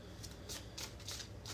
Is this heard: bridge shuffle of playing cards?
yes